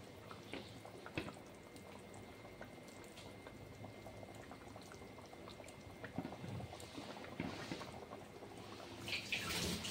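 Rui fish curry bubbles in an uncovered pan, a quiet steady simmer of popping and burbling with a few sharper spits near the end, heard alone without talk.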